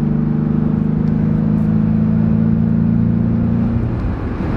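A Jeep with a newly installed intake drives along, its engine and exhaust giving a steady, close, droning hum that fades slightly toward the end, heard from inside the vehicle.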